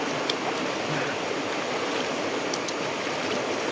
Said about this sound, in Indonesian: Ini memang sungai alam ya, bukan tempat wisata ya.